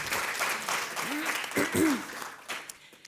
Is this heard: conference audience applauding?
yes